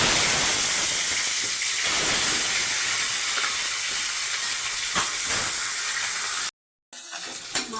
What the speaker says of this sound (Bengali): মাছের মাথা ভেজে নেব।